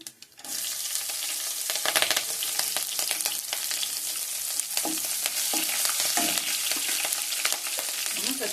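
Ginger and green chillies fry in a pan with a continuous close sizzle, punctuated by scraping and stirring clatter throughout, with no talking.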